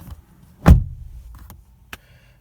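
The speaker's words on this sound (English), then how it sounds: "All right, so we'll go ahead and shut the door" A door on a 2018 Honda Civic Type R thuds shut once, near and solid, with a short low boom that fades quickly. A fainter click follows about a second later, and another small click sounds a moment after that.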